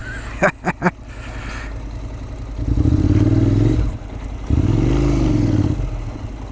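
A motorcycle engine revs hard twice as it climbs a slope, loud and close, after a few sharp clattering knocks at the start.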